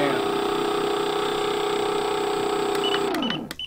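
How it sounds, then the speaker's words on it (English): A brushless electric motor for a model airplane whines steadily at a high, constant pitch, loud and close, then spins down with a falling tone and cuts off near the end, followed by a few clicks. "so the motor started up on the higher end of the band"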